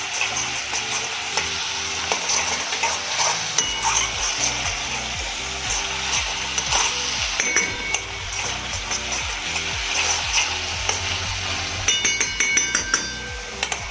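Gravy with finely chopped ginger and coriander stirred in a pan for eggplant curry, a steady frying sizzle under scraping and clinking of the spoon against the pan.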